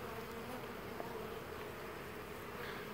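Honey bees fly around the entrance of a strong hive, a steady, close buzzing hum of many insects at once with no voices.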